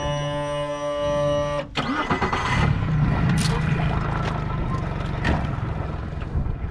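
A boat engine cranks and catches, then settles into a steady rumbling run, close up, with wind buffeting the microphone.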